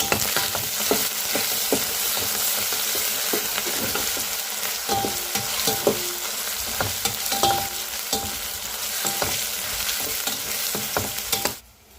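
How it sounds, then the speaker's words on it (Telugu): Spices, ginger-garlic paste and pulao spices for an ivy gourd biryani fry loudly in a pan, a dense continuous sizzle with frequent scraping stirs, fading abruptly at the end. "అయితే బాగా ఫ్రై అవుతూ ఉన్నాయి కదండి"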